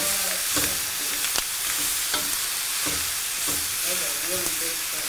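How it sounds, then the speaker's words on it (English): Big shrimp fry over high heat in a pan for shrimp fajitas, a constant loud sizzle with occasional stirring clicks and utensil taps, near and without speech. "These are big shrimp, and we're going to let them cook down"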